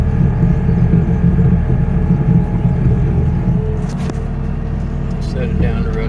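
Diesel machine with a bucket driving while cutting keyline swales, a loud steady low engine rumble running throughout with a brief knock near the middle.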